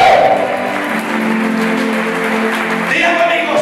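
A church congregation applauds during a sermon, a loud continuous wash of clapping filling the room with musical tones sounding underneath.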